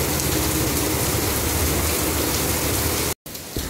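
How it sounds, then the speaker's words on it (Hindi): Heavy rain pours down steadily and loudly, a dense, continuous hiss of drops drumming on surfaces, close and unbroken except for a brief dropout near the end. "देखो कितने ज़ोर से बरस रही है। बारिश को अभी आना था"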